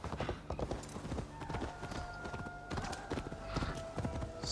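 Horse hooves clip-clop in Assassin's Creed Valhalla, a quick steady rhythmic trot of close, crisp hoof strikes on hard ground, fairly quiet, with faint game ambience.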